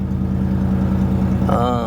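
A GMC truck with a fuel pump fault idles just after starting, its engine a steady low rhythmic rumble close by, and a brief tonal whine rises near the end.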